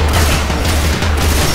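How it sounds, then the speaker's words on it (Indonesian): Grenade launcher fire in the zombie shooter Left 4 Dead 2, a loud, dense barrage of booming blasts with a deep rumbling low end that continues without a break from start to finish. "Tembakan grenade launcher, boom."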